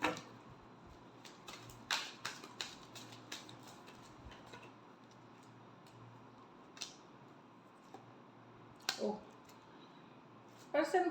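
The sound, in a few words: tarot cards being shuffled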